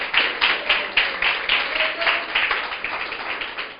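A church congregation claps for the Lord during a Spanish-language sermon, a loud, rhythmic burst of group clapping with regular pulses, close and unaccompanied by speech.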